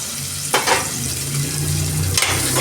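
Steady sizzling and crackling of onions frying in a hot pan, close up, with a couple of stirring clatters.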